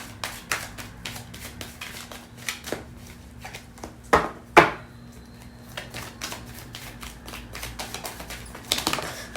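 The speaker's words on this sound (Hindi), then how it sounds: "OMG, बहुत सारे कार्ड्स गिर गए" Oracle cards being shuffled, a steady run of soft papery taps and flicks, close by, with two sharper slaps near the middle as several cards drop, and a brief flurry near the end.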